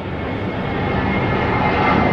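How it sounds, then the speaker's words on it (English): An aeroplane roars loudly overhead, a dense, continuous engine rumble that swells slightly as it passes, with no voices. "Sorry about the aeroplane,"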